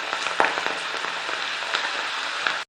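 Chana daal frying in hot oil, a dense continuous sizzle with crackling pops throughout, close and steady.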